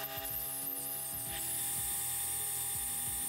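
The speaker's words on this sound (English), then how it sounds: "I switched to a boring bar." A metal lathe runs with a steady tonal hum while a boring bar enlarges a bore. There is a brief harsher cutting hiss at the start, then an even machine drone with faint periodic knocks.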